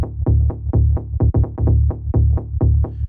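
A deep tech house bass sidechained to the kick pumps in rhythm with a thudding kick drum, ducking sharply on each beat in a steady, fast electronic pulse.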